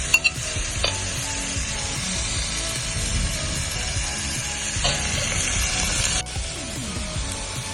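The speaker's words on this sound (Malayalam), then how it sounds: "ഈ കഴുകി വൃത്തിയാക്കി വെച്ചിരിക്കുന്ന ചെറിയ മീനും കൂടെ ഇതിനകത്തോട്ട് നമ്മൾ ആഡ് ചെയ്ത് കൊടുക്കുകയാണ്" Small cleaned fish tossed into a hot pan with snake gourd thoran in a Kerala kitchen, with a steady close sizzle and continuous scraping stirs running the whole way through.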